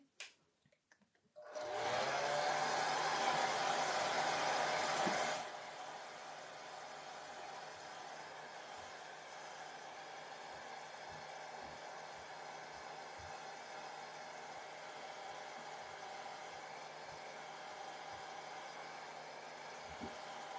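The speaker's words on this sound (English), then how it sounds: "I'm going to be turning the hairdryer on." A hair dryer whirs loudly for a few seconds with a steady high whine, then cuts to a quieter continuous hum with faint clicks.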